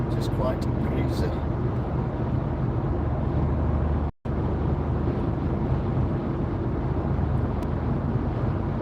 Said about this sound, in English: You can hear the wind on the car as well.